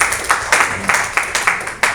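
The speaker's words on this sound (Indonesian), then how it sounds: "Tepuk tangan buat Tuhan Yesus." A church congregation claps in a loud, regular rhythm during a Christmas sermon, each sharp clap crisp and close, repeating steadily about every quarter second with no talk over it.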